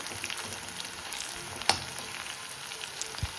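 Garlic frying lightly in oil gives a soft, steady sizzle close by, with one sharp clink of a utensil partway through and a low knock near the end.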